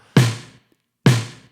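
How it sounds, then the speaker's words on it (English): Two identical snare drum hits roughly a second apart, each a fat, punchy crack with a short decaying tail, close and loud with silence between. "I like the sound of the snare drum so much that I decided to save it in my little library"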